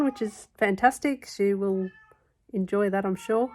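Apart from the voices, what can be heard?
pet cat meowing after catching a mouse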